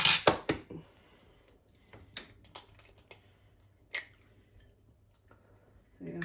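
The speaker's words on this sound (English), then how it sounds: "You're going to start off cracking your 2 eggs" Two eggs cracked for a crispy lemon chicken egg mixture, with sharp taps and cracks clustered at the start and a few more isolated clicks later in a quiet kitchen.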